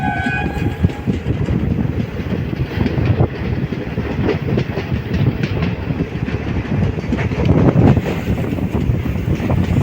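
A train on the Salem to Mettur Dam line joins the Omalur track, a loud steady rumble of wheels and carriages with rhythmic clatter throughout and no voices.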